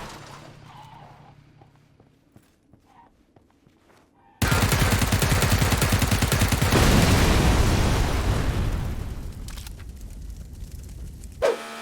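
A snowmobile blown apart in the video game PUBG: a quiet stretch, then a sudden loud blast that rolls into a sustained roaring burst of fire and crackling debris, fading slightly near the end.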